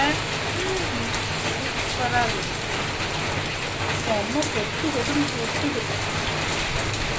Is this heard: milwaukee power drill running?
no